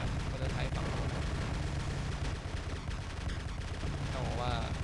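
A new prototype heavy weapon in War Robots fires rapid, dense bursts of mechanical gunfire, continuous and loud across the clip with faint game ambience underneath.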